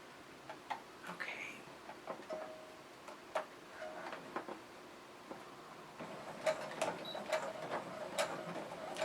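Sewing machine stitching slowly through thick layers of a cross body bag, producing faint, irregular ticking and clicking bursts close by with quiet pauses between runs.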